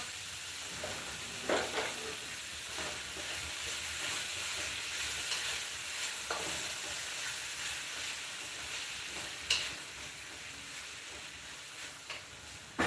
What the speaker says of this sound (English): Add my basil in. Let me give it a stir.